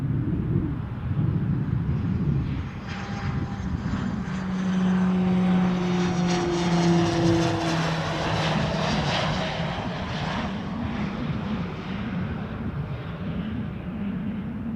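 A passenger plane lands at Toronto Pearson Airport, its engines droning steadily and loud throughout with a whining tone rising and fading as it passes.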